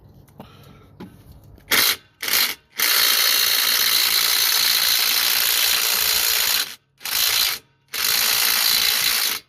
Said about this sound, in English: we see if how tight it is and if my rattle gun can take it off